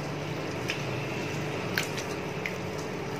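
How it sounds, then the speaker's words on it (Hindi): Lentils being swished and washed by hand in clean water, a steady wet squishing and sloshing with a few sharper drips and splashes, close and moderately loud. "और साफ पानी में धोना है।"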